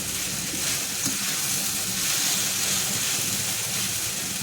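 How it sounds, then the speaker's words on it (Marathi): Sabudana khichdi frying in a pan, a steady broadband sizzle with faint stirring scrapes running continuously at moderate volume, no voices. "त्याला असं पाच दहा मिनिटं आपण त्याला फ्राय करून घ्यायचं"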